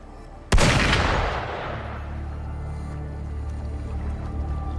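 A single loud gunshot in the video game Wuthering Waves cracks sharply, then a long rumbling echo decays slowly into a low, steady background hum.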